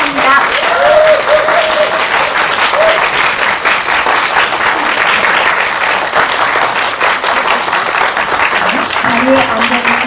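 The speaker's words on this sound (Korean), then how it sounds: "여러분 큰 박수 보내주시기 바랍니다." An audience at a press conference for the animated film Magic Candies gives sustained, dense applause as guests come on stage, while a voice speaks over the clapping at times.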